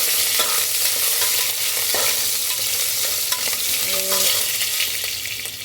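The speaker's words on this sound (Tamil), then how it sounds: "கொஞ்சம் இஞ்சி தட்டி வச்சுருக்கேன் வதக்கிடுவோம்" Crushed ginger sautéing in a pan for mutton kuzhambu, a steady close sizzle with scraping stir strokes running throughout, no talking.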